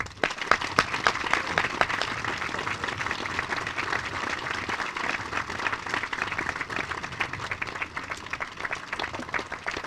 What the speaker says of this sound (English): Please join me in a loud and thunderous applause to welcome Congresswoman Tulsi Gabbard.